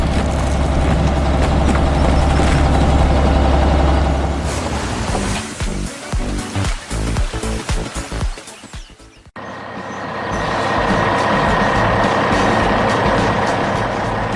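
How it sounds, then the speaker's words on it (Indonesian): A heavy garbage truck rumbles loudly along a busy city street, its engine drone steady, then breaking into clanks and a brief drop before the roar resumes. "Lihatlah truk sampah biru itu melaju dengan tenang di sepanjang jalan kota yang sibuk."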